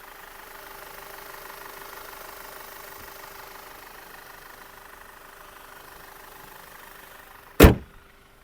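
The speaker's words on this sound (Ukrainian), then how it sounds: "Двигун працює чітко." Audi A6 C7 (2014) car engine idling, a steady low hum heard from nearby with no talking, ending in one loud sharp thud like a door or hood closing.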